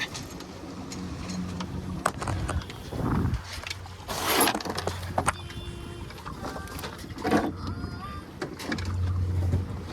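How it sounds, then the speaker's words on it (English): Sailboat under way on the water in front of Seattle in the evening, with steady wind and water wash, creaking and thumps of rigging, and occasional voices nearby. "Then we'll officially start sailing here."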